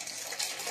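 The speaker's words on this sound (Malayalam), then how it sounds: "ഈ തിളച്ച ശർക്കര നമ്മൾ ഇതിലേക്ക് അരിച്ചൊഴിക്കണം." Hot, freshly boiled jaggery syrup pours through a strainer in a short, soft liquid gush.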